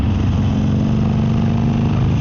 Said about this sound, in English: just listen to that engine as well though